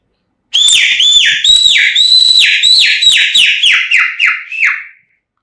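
A series of high, loud whistled chirps, about a dozen in quick succession, imitating a chick's peeping; the notes shorten and fade toward the end.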